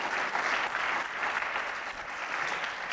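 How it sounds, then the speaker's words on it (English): Audience applause fills a hall at a kindness summit, a steady, dense clapping from a crowd that holds at an even level throughout. "Give it up. Give a big round of applause."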